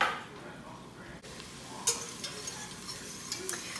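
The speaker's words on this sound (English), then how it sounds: "now that my onions are nice and sweaty and buttery and soft" Onions sweating in butter in a pan sizzle softly and steadily, with a few light scrapes and taps of a utensil stirring against the pan, close by and with no talking.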